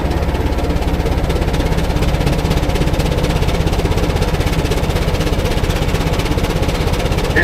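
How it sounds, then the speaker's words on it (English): A rapid, regular chuffing pulse beats steadily from a 25-75 Gaar Scott steam traction engine exhaust under load on a prony brake, loud and close, with a rumbling mechanical undertone and no voices. "The exhaust steam from the engine is shot up the stack."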